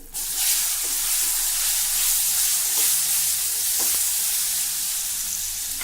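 Curry leaves, a pinch of turmeric and guava pieces hit hot oil with a loud, steady hiss and crackle, sizzling continuously up close with faint stirring clicks.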